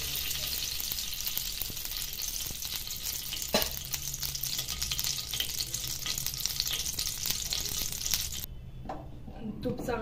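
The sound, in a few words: ghee heating and sizzling in a kadhai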